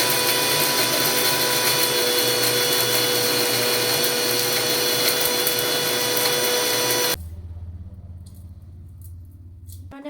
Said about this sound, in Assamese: কচুটো ভালকৈ শুকালি যেতিয়া মিক্সিত মাৰিম না গুড়াখিনি একদম পুৰা একদম ধুলা ধুলা হৈ যায়